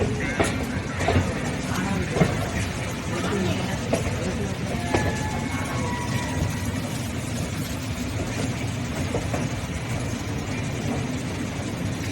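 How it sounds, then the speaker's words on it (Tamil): A low, steady rumble of a Vande Bharat express train arriving, with rolling mechanical noise and occasional clanks, continuous throughout with a busy station background. "வந்தே பாரத் அதிவேக விரைவு வண்டி இன்னும் சற்று நேரத்தில் நடைபெற ஒரு ட்ரெயின் வந்து சேரும்"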